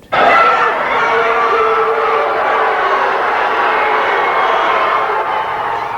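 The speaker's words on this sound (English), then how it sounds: "Just listen to this crowd" Dense crowd gathered outside a federal courthouse where NFL quarterback Michael Vick appeared, producing a loud, continuous roar of many voices with no pauses.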